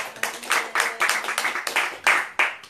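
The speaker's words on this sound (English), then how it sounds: "Give him a round of applause." A small audience at a talk on breatharianism and the heart chakra gives a short round of applause, sparse uneven claps from nearby hands in quick bursts.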